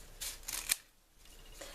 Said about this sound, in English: these are just office supply scissors